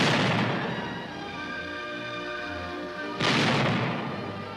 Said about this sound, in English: maximum advantage was made of long-range direct tank fire